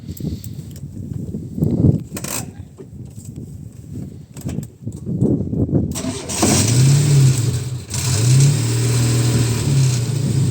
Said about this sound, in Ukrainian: людям буде цікаво, як вона 0 градусів заводиться